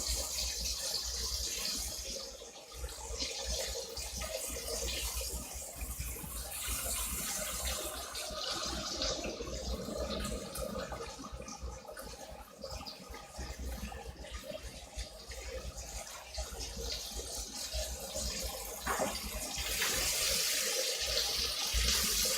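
Tap water runs steadily into a sink as green beans are washed, a continuous close, loud rush with no talking.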